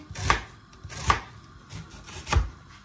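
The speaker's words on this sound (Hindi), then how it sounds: "हांव ऑनियन बरो फायन चॉप करता" A knife finely chops onion on a board. Three distinct, evenly spaced strikes land close and crisp over a quiet background, with no talking.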